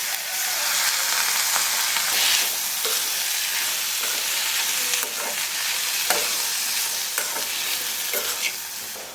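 Onions and tomatoes sauté in a pan for kadamba chutney, a loud continuous sizzle and fry with periodic scraping strokes of a spoon stirring, close up and without voices.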